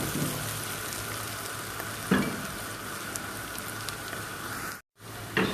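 Onions, garlic and ginger fry in melted butter for a potato soup, giving a steady soft sizzle with occasional stirring clinks and a brief silent gap near the end.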